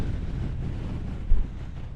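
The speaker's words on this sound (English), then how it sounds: "Suddenly very windy" Strong wind blows across an exposed stretch of coastal path on Exmoor, a low, continuous roar buffeting the microphone, with one brief harder gust midway.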